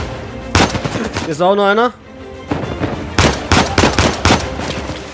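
Gunfire in the video game Uncharted 4: loud bursts of rapid shots at the start and again near the end, with someone speaking German between them.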